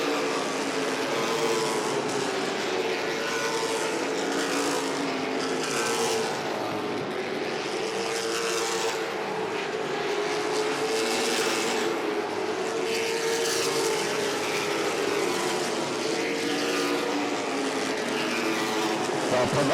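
Late model stock cars race at Langley Speedway, their engines blending into a steady, loud roar that swells and fades slightly as the pack passes, continuous for the whole stretch.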